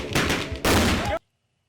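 Loud explosive blasts during Air Force basic training, two heavy back-to-back bursts of roaring noise that cut off abruptly into silence.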